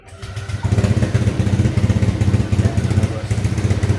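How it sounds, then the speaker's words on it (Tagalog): A motorcycle engine starts and settles into a loud, close, rapid pulsing idle with an even throbbing rhythm that carries through to the end, with no voices over it. "Papaandar ng motor."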